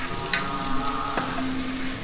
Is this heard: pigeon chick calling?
no